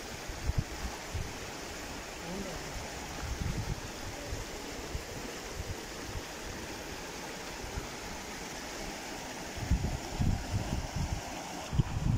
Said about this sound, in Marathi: पण पाणी वाहतंय भरपूर